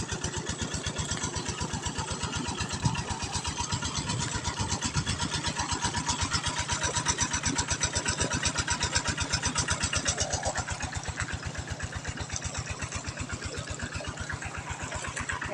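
Small water pump engine running steadily for irrigating a rice field, a loud continuous rhythmic chugging that holds close and even throughout, with no talk over it.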